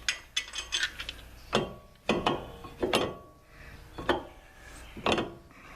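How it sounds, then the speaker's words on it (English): A ratchet clicks in short bursts, then pauses, as lug nuts come off a Chevy Cruze during a brake and rotor job, each burst of clicking loud and close with no talking. "so now we can take these lug nuts off"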